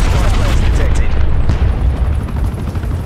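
A Semtex grenade blast in Call of Duty Black Ops Cold War erupts as a loud, rumbling boom. It is layered with gunfire and battle noise, and a voice talks over it.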